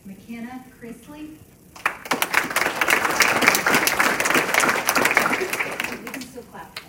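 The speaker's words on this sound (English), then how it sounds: "We can still clap for him" At a county school board meeting, a voice speaks briefly and then a room of people bursts into clapping for an honoree, staying loud and steady for several seconds before tapering off.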